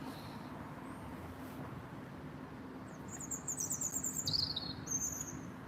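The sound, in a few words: birds nesting in the trees calling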